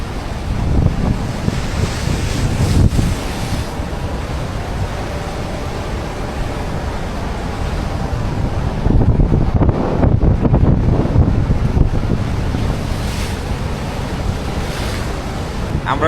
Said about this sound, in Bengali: এরপরে ফুল স্পিডে জাহাজের প্রপেলারকে উল্টা দিকে ঘোরানো হচ্ছে, অর্থাৎ রিভার্স প্রপালশন